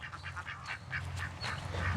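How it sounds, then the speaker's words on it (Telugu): Ducks quack repeatedly in a steady, nasal stream, several birds calling close by with no talking. "మన బాతులు చూడండి"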